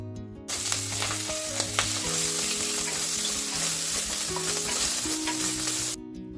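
Small prawns fry in a pan for a spicy shrimp curry, giving a loud, even sizzle that starts abruptly and holds steady for several seconds before cutting off. Faint music plays underneath.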